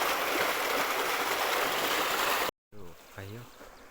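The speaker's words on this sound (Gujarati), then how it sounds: "પાણી ખોલી દીધું છે" Irrigation water rushes from an opened tank valve on a farm: a broad, steady gushing flow that stops abruptly, followed by a voice speaking nearby.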